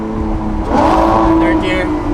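A straight-piped Lamborghini LP770-4 Superveloce pulls hard in second gear, its engine note rising loud and close through an underpass, with a person talking over it.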